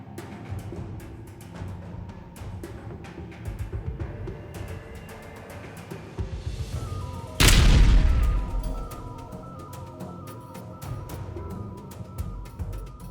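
A single heavy explosion goes off inside a building during an FPV drone attack on Russian soldiers, one loud booming blast midway, with scattered sharp clicks and rumble before and after.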